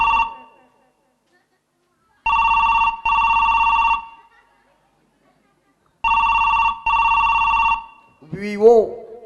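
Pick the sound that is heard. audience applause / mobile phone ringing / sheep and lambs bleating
mobile phone ringing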